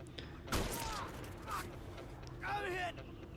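Gunfire in GTA V during a chopper-location shootout, with a few sharp bursts over a mechanical game backdrop while someone talks excitedly over it.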